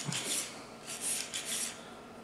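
A brush scrubbing the bore of a Smith & Wesson SW99 .40 S&W pistol, with three soft, close rasping strokes.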